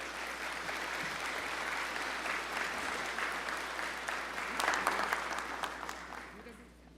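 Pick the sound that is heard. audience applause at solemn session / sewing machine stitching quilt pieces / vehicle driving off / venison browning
audience applause at solemn session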